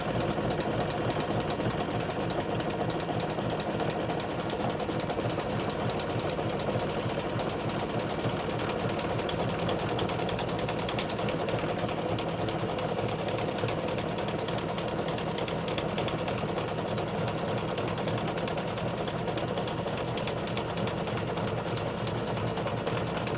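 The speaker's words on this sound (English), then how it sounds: "color 24 is going to stitch this right on the inside with a triple stitch" An embroidery machine runs steadily, sewing a triple stitch in thread color 24 along the inside of an in-the-hoop Thanksgiving gnome mug rug side panel, a continuous close mechanical whir with a rapid needle rhythm throughout.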